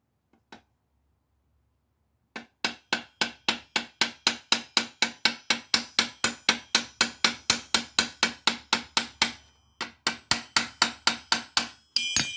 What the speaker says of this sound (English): I'm tapping on the actual rust line.